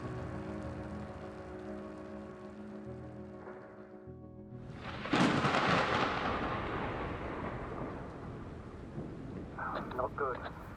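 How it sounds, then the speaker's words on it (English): Thunder from a storm in the video game The Invincible rolls in as a sudden loud crack after a quieter stretch, then rumbles and decays under wind, with a voice speaking. "The storm's raging."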